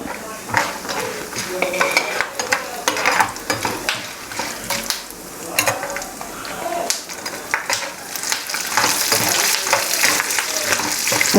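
Peanuts, chana dal and chillies frying in hot oil, a loud crackling sizzle broken by frequent scraping and clattering of a spoon stirring in the pan, close and busy throughout.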